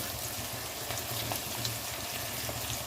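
Onions frying with ginger garlic paste for a duck gravy, a steady even sizzle with soft crackles, close and constant throughout.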